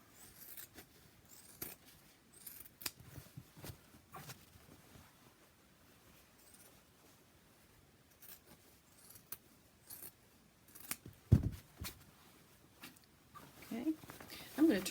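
Scissors trim sewn fabric for a tote bag lining, giving repeated close, crisp snips in uneven bursts with faint handling rustle between cuts.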